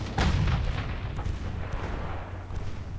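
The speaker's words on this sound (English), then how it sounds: "Let's get our entire line focus firing this lead cruiser." Naval guns from a line of warships fire on a lead cruiser in the 1930s naval battle game Ultimate Admiral Dreadnoughts, with deep booming salvos rolling over a steady low rumble and no one talking.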